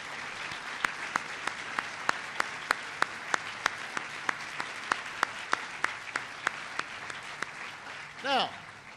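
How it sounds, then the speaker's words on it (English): An audience applauds business leaders at a presidential event on education, a sustained even patter of clapping filling the room, with a few sharper claps punctuating it and a brief voice near the end. "Let's give them a big round of applause."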